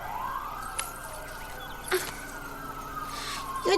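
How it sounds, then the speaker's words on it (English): Police sirens wail steadily at a moderate distance, a long rising and falling tone running throughout under brief sharp background bumps. "I can't think with all these sirens."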